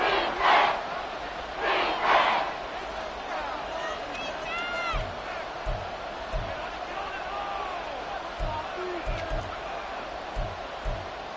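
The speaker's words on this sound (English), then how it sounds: "A big play here. Crowd on their feet." Stadium crowd in an EA Sports American football video game roars steadily, with bursts of louder cheering, scattered whistles and thumps of on-field impacts underneath, loud and continuous throughout.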